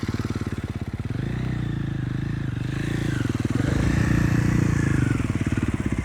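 A motorcycle rumbles at low speed through a tight turn in advanced slow-speed riding practice, its engine pulsing steadily close by with a slight rise in throttle midway.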